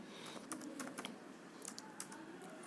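Quick, light keystrokes on a computer keyboard as entries are typed into Tally Prime accounting software, with faint, irregular clicks close to the mic and no speech.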